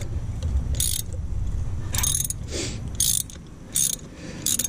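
Ratchet wrench snugging valve cover bolts on a Ford Escape Hybrid, heard as short bursts of quick clicking at an irregular pace with pauses between strokes, close and moderately loud.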